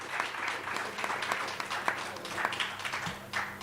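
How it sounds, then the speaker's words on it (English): Applause at a fight-night press conference, a moderate, fairly distant patter of clapping from a small crowd that holds steady throughout. "Please give a round of applause to Ashley"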